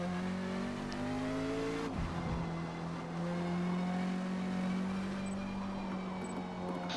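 A Porsche 550 Spyder racing at Spa in the Forza Motorsport video game, its engine droning steadily, then dropping pitch sharply under heavy braking before climbing again, loud and continuous with no talk.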